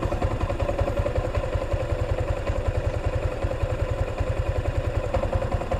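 Yamaha Sniper 155R 2024 motorcycle idling close by, a steady rapid low-pitched putter with a slight clattery ticking on top, loud and even throughout with no one talking.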